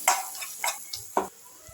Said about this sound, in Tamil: இது நல்லா எண்ணெயில் ஒரு முறை நல்லா கலந்து விட்டுக்கலாம்.